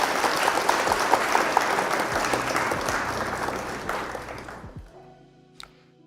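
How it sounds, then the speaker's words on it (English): A crowd claps loudly and steadily for several seconds at a Flesh and Blood trading card game tournament, then the applause thins out and fades to near quiet. "Round of applause for Bathos."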